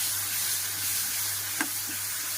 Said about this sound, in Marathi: थोडा काळा मसाला, शेंगदाण्याचं कूट, खोबऱ्याचं कूट आणि दही हे सर्व छान परतून घेते